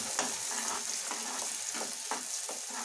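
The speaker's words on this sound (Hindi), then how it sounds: "यहाँ हमने फिर से कढ़ाई में तेल गरम कर लिया और इसमें हम अपने मसालों वाले पेस्ट को फ्राई कर लेते हैं।" Spice paste frying in hot oil in a kadhai for a gobhi aloo matar sabji, giving a soft continuous sizzle with a few light stirring scrapes, close and fairly quiet, with no voices.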